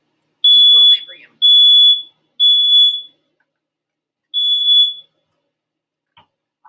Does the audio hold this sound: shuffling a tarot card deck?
no